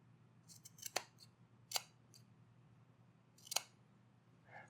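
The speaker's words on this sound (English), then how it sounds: "In the curved areas, I'm going to snip little slots so that it folds nicer." Scissors snip small slots into the curved edges of fabric for a tailor's ham. Three or four crisp, close snips come at irregular intervals over a quiet background, with no talking.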